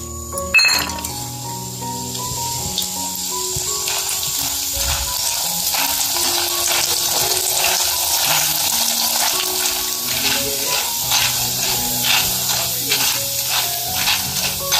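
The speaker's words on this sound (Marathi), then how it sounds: "आता हे डाळ भाजून तळून घेते।" Dal frying in hot oil in a pan for Diwali poha chivda, a loud continuous sizzle with scattered clinks of a spoon against the pan and no talking.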